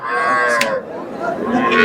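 A native cow moos loudly at a busy cattle market, one long close low call with a drawn-out, wavering tone, set against faint background crowd noise.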